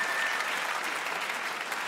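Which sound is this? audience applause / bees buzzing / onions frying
audience applause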